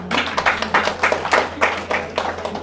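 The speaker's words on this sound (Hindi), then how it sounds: "तालियां तो बजाओ" Audience clapping at a spiritual talk, with irregular bursts of hand claps building and fading in waves over a steady low hum, fairly close and loud, with no voices.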